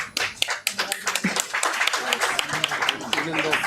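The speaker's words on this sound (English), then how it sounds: "Please give this next generation a big round of applause." Applause from the audience at an international seminar on Mahatma Gandhi, a close patter of clapping that keeps going steadily while people talk loudly over it.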